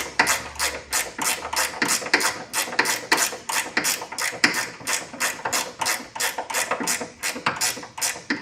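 A ratchet tightens bolts on a Triumph TR6 barn find, a rapid run of loud, evenly spaced clicks repeating close up over several seconds.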